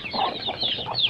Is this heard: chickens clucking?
yes